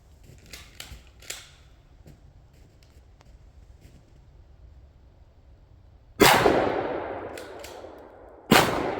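Two loud, sharp shotgun blasts of number 4 shot fired at a well pressure tank outdoors, each with a long ringing decay, preceded by quieter clicks and handling knocks.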